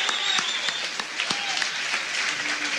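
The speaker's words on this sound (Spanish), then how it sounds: "Un aplauso, Luis, para Necochea" Studio applause on a rock radio program greets the town of Necochea, a dense, even patter of clapping that runs the whole stretch with no talk over it.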